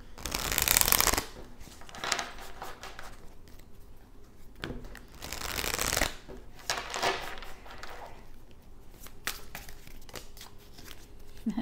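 Tarot cards shuffled in bursts of riffling and soft slapping, close and fairly loud, with quieter shuffling and faint card handling between, no talk.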